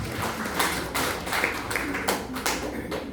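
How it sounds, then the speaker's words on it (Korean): An audience claps at a pastors' seminary alumni retreat in a hotel hall. The clapping is brisk and fairly close and runs for a few seconds, with a speaker's voice over it. "박수. 이분들에게 박수."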